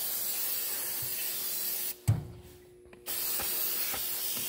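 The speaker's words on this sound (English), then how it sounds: "with a generous helping of brake parts cleaner, we'll go around all over this" Brake parts cleaner sprays from an aerosol can onto an M35A2 truck's oil filter and injection pump area, a loud, steady hiss that cuts out briefly with a clunk, then resumes at full strength.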